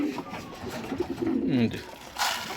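Pigeons coo close by in low, throaty, rolling calls over soft background noise and faint shuffling.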